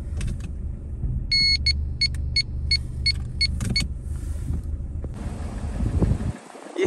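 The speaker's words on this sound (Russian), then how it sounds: "На данный момент двигатель находится в заведенном состоянии, никаких ошибок не имеет, работает идеально." A 2008 Renault Megane with 165,927 km and no fault codes idles at a steady low rumble, with a run of short electronic beeps over it before the sound cuts off abruptly near the end.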